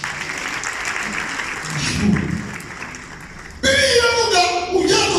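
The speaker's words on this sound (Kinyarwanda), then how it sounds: "Reka dukomere Imana amashyi." Church congregation applauding: a crowd's clapping swells faintly, then breaks into a louder, sustained round of applause mixed with voices near the end.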